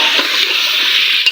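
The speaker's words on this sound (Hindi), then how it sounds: "तो इसके अंदर मैं डालने लगी हूँ अदरक लहसुन का पेस्ट।" Ginger garlic paste hitting chicken frying in a pan gives a steady, close, hissing sizzle that continues evenly throughout, with no talking.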